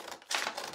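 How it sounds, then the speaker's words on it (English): Scissors snip through transfer paper in a close, brief burst of crisp cutting that follows a short quieter moment, with no voices. "now I'm going to get my scissors and we're just going to cut it out."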